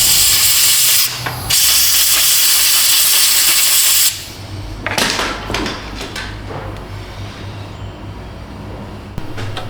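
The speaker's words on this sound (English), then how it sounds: "let me give this a little toot with a blow nozzle" A loud, steady blast of compressed air hisses for about four seconds with a brief break, followed by quieter clatter and short bursts.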